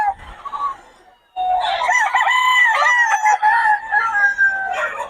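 Stag roosters crow loudly and close at a gamecock farm, one long cock-a-doodle-doo after a brief cluck and pause, with no talk over it.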